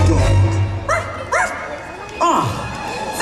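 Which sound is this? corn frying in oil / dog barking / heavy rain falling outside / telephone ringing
dog barking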